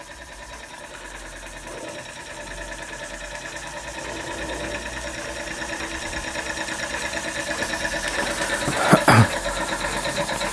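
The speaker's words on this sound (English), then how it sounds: "the Swan M1 running under power for the first time" A Swan M1 model steam engine runs under its own power with a rapid, steady mechanical chatter that grows gradually louder, broken near the end by a brief, sharper burst.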